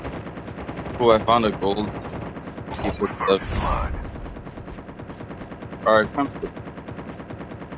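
Gunfire in a Call of Duty battle royale match, with bursts of shots crackling between players' talk and a louder volley in the middle, set against steady game background noise.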